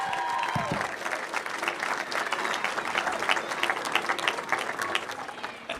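A crowd at a Turning Point debate event at Utah Valley University applauds and cheers steadily and loudly, with dense clapping from many hands filling the whole stretch and a few whoops rising above it.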